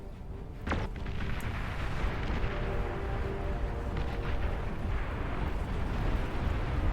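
Pawn launchers firing at point blank range in a massive real-time strategy battle in Beyond All Reason, a dense continuous barrage of booms and crackling explosions with a sharp blast near the start.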